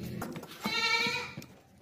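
A pregnant goat for sale at a livestock market gives one loud, drawn-out bleat over a busy, noisy background of shuffling and murmur.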